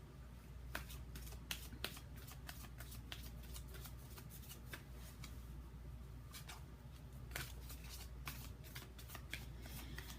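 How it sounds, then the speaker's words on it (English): Tarot cards shuffle close up at a quiet level, a continuous riffling rustle with repeated sharp card flicks and slaps in uneven rhythm, no speech. "I'm going to go ahead and pull some love cards."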